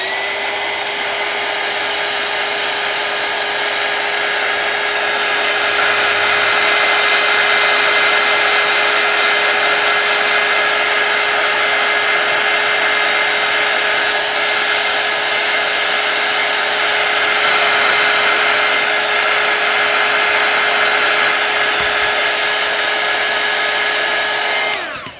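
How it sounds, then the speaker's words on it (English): A heat gun blows continuously for about 25 seconds, a steady loud whirring hiss with a fixed whine, drying adhesive on a foiling job with no talk. "Once that is done, take your heat gun"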